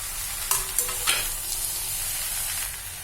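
Brinjal pieces tumble into a hot pan with a few soft thuds, then a steady sizzle of frying continues beneath gentle stirring scrapes, close and moderately loud, with no voices.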